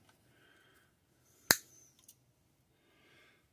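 A spring from a Frixion pen being snipped in half with a cutter, heard as one sharp, close snap and a fainter click just after, in an otherwise quiet room.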